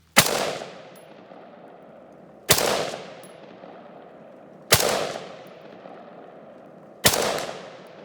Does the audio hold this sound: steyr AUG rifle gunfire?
yes